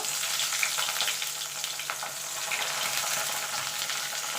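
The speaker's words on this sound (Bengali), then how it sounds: "এবার বেগুনগুলো ভেজে নেব" Pieces of eggplant fry in hot oil with a continuous close sizzle and crackle, occasional brighter pops rising above the steady hiss and no talking.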